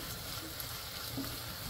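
Tomatoes and peppers simmering and frying together in a pan, a soft steady sizzle heard faintly and close, with no talking.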